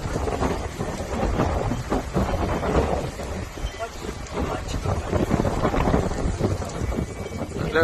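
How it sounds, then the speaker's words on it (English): Strong wind circles near a tornado in Monroe, Oklahoma, roaring and buffeting the microphone in a constant loud rush, with voices talking underneath. "that wind is just circling like crazy"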